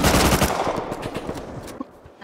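Rapid automatic AK rifle fire in the video game Rust, a dense burst of close, loud shots that thins into scattered cracks and trails off near the end, with no talk over it.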